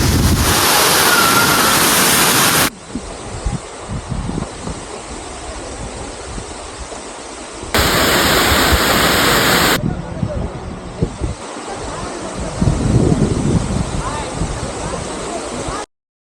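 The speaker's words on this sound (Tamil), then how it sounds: "தமிழ்நாடு சோலோ ட்ராவலில் சூப்பரான ஒரு வாட்டர் ஃபால்ஸுக்கு வந்திருக்கேன்" Thirparappu waterfall in Tamil Nadu roars as a steady broadband rush of falling water, with loud wind buffeting the microphone in bursts and a person talking over it.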